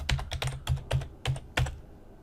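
Typing a password on a computer keyboard, about seven crisp key clicks in a quick irregular rhythm, close and fairly quiet, with no talking.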